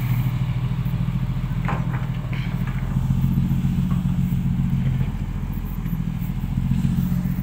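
A motorcycle engine revs loudly and steadily with a throaty, rumbling modified exhaust, rising and settling in waves for several seconds.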